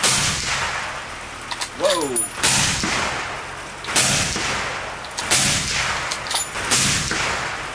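Several loud rifle shots from a Howa rifle chambered in 300 Win Mag ring out at a shooting range, spaced a second or so apart with ringing echoes, and a voice gives a brief exclamation.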